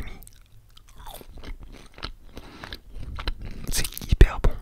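Close, crisp crunching bites and chewing of crunchy spiced McDonald's fries with creamy sauce, with soft mouth noises and brief quiet murmuring between bites.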